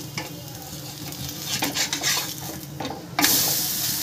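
A spinach snack is flipped in a frying pan, with a spatula scraping and tapping the metal over a soft sizzle, followed by a sudden louder burst of frying sizzle as the turned side hits the hot oil.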